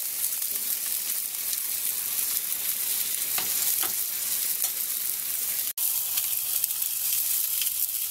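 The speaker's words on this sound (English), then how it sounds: "It is kind of starting to simmer in its own juices because some more juices have come out." A pork chop sizzles on a grill mat, simmering in its own juices with a steady, close, bright hiss and crackle that runs without a break, plus one sharp click partway through.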